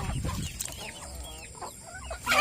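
Rhode Island Red chickens cluck and squawk in a backyard coop while scuffling with each other, a busy close chorus of short overlapping calls and noise.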